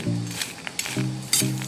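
Spicy peanuts with red chili tossed in a pan, giving a few sharp clinks and scrapes of stirring over a low sizzle and a steady background hum.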